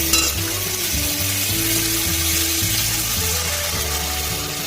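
Water poured into a pan of sizzling oil and spices with pepper and whisked curd, a loud, dense hissing sizzle that holds steady throughout.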